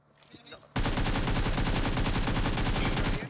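Rapid automatic gunfire in the mobile battle-royale game BGMI bursts in suddenly after a short stretch of quieter game sound, then pounds on loud and continuous in a fast, even rhythm until the end.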